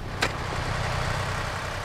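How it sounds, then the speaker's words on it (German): Tractor engine running steadily nearby while hauling beech wood split logs, branches and billets for a charcoal kiln, a continuous low rumble with a brief sharp noise near the start. "Das Rohmaterial für den Meiler wird mit dem Traktor angefahren."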